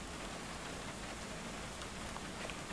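Steady rainfall in the video game Mafia II, a constant, even hiss of drops pattering on surfaces with no break or change in intensity.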